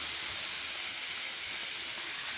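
Home-grown spinach and other vegetables frying in a pan, an even, continuous close sizzle and hiss with no talking.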